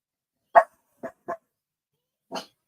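A dog barks four times in short sharp bursts: one strong bark, then two quicker ones close together, and a final bark after a pause. The barks are fairly close and clear, with silence between them and no talking.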